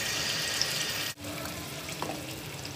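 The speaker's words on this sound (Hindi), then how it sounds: "और चिकन को फ्राई करें." Chicken pieces fry in a pan for masala, giving a steady, close sizzling hiss that cuts out for a moment partway through and then resumes.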